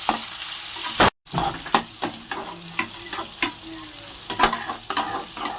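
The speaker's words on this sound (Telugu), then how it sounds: "ఎర్రగడ్డ పచ్చిమిర్చి వేసుకొని బాగా వేగనివ్వాలి." Sliced onion and green chili sizzle in hot oil in a pan for upma, with steady frying hiss broken by scraping stirs and a brief dropout near the start.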